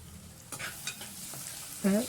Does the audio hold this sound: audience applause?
no